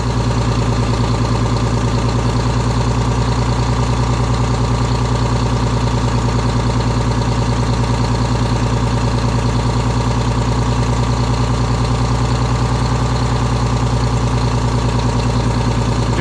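A 4104 bus engine that hasn't been started in months idles steadily, a loud, even diesel drone with a constant low throb and no throttle changes.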